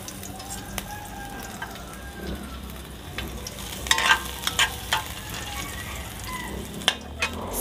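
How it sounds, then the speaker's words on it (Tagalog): Garlic sautéing in hot oil, a low, even sizzle broken by several sharp scraping stirs and clinks near the end, with a rooster crowing faintly in the background. "Lagay natin ang bawang."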